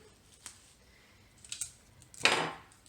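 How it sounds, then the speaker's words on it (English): Scissors make a few scattered metallic knocks and clinks on a table, ending with a louder clatter that rings out briefly, in a quiet room. "I keep hitting my scissors over there making noise"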